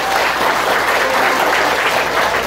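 A large audience at a family reunion event applauds in welcome of a professor, with dense, loud, continuous clapping from start to finish.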